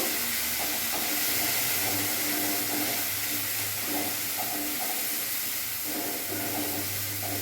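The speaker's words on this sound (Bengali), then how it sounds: "এখন এগুলো ভালো করে নাড়বো" Cumin and Kashmiri chili powder sizzling in a pan while being stirred, a steady loud hiss of frying with soft scraping strokes throughout, no voices.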